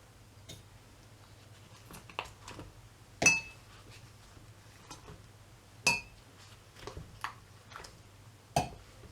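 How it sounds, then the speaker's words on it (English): Ice cubes for lye solution in soap making clink and knock against a container while being weighed, several sharp scattered clinks spread irregularly across quiet background. "I have to weight the ice cubes"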